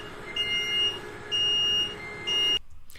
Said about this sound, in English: So you're going to hear that alarm throughout this.